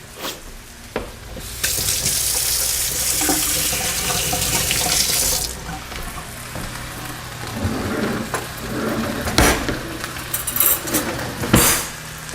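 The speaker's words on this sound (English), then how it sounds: "I gotta wash my hands" Running tap water at a sink while hands are washed, a loud steady stream splashing into the basin for several seconds, then splashes and clatter as the flow stops.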